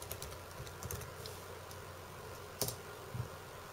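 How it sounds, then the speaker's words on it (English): Someone types on a computer keyboard in a quiet room, entering a short Windows command. Soft, close key clicks come in small irregular bursts over a low background hum, and a sharper keystroke stands out near the end. "Typing in winver command."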